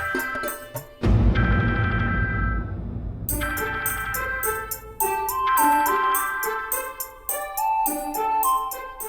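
A mobile phone ringtone plays a repeating melodic tune, loud and close, with a short burst of other sound near the start before the tone carries on steadily alone.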